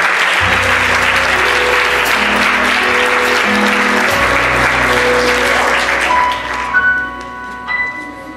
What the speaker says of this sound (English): let's give the Lord a hand clap of praise here